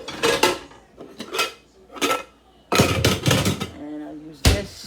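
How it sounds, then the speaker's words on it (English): A covered cooking pan pulled out in a home kitchen, several sharp metallic clanks and clatters of pots and lid in separate bursts, close by, with brief speech between. "So let's get the pan out that I need."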